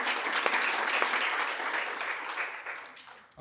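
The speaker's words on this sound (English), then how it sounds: "Round of applause, please." An audience at a rights presentation event claps steadily, a dense even patter of many hands that slowly thins and fades toward the end.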